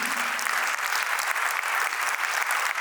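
Sustained audience applause after a stage drama about Vidyasagar Ji Maharaj, a dense and even wash of many hands clapping at a steady level throughout, with no voices over it.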